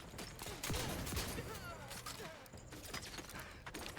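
Gunfire in The Outer Worlds 2 comes as rapid, overlapping bursts mixed with clanks and game effects, and a voice talks briefly over the shooting.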